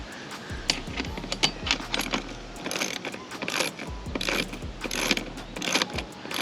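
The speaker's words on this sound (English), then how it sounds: "I chose to use my own ratchet because it's a lot faster." A hand ratchet fitted with a 13mm socket tightens the L brackets on a Roam Adventure Co vehicle awning, giving rapid bursts of close mechanical clicking in repeated runs, separated by short pauses, with no talk.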